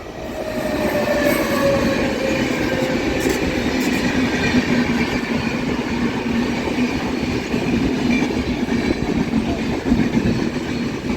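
A passenger train rolls past a railway platform in winter cold, a loud, steady rumble of wheels and cars that fills the whole stretch, with faint squeal and clatter over the rails and no voices.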